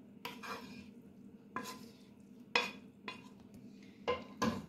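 Ground chicken spread as a layer over potatoes in a pan, several separate scraping and clinking strokes of a utensil against the pan, close and moderately loud with short pauses between.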